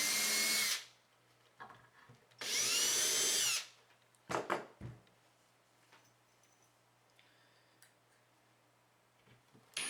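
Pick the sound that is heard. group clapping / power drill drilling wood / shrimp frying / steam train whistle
power drill drilling wood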